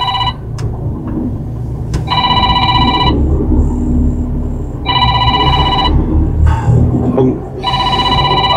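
A telephone rings for a boss's call in a workplace where an excavator has two faulty valves, the repeated electronic trill sounding in bursts over a steady low rumble of machinery.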